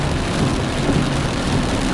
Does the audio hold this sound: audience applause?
no